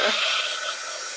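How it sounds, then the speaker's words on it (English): An old embossing heat dryer blows a steady, loud airy whir from start to finish, fairly close and with no talking. "it's actually an old embossing dryer."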